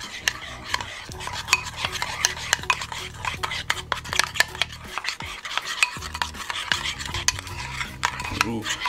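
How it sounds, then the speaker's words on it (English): Ketchup mixed with Worcestershire sauce for turkey meatloaf being stirred in a bowl, a rapid continuous scraping and clinking of the utensil against the sides, close up with brief pauses. "Look at this ketchup mix I'm making"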